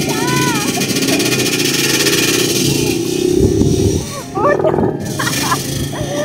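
A motorcycle engine drones close by at a steady pitch as it is ridden, with a brief dip and rise in revs midway; a dog barks faintly in the background.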